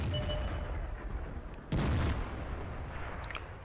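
Artillery firing in the tank game World of Tanks: one sharp, heavy boom that cuts in over a low rumbling background and fades out over a second or so.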